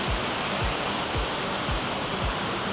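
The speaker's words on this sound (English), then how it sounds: "You can see the waterfall." Steady broadband rush of a waterfall in San Antonio, continuous and fairly loud, with a faint rhythmic low thumping underneath and no talk.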